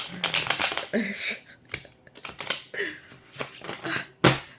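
A deck of cards is shuffled repeatedly, producing quick riffling bursts and soft taps close by, with brief pauses between rounds and no talking.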